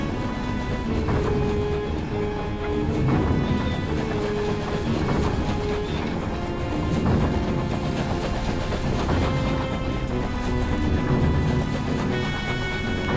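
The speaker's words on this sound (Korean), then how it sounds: "여기서 오른쪽으로 가서 이 열차를 타는 거 아닐까?" A train ride in the video game Night in the Woods: a steady, continuous rumble of rolling rail cars with faint clickety-clack and a soft layer of game music, loud and even throughout with no talking.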